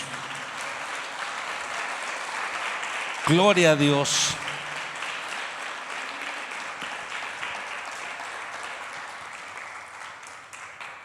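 A church congregation applauds the Lord, with sustained, even clapping from many people in a large room while a voice calls out over it.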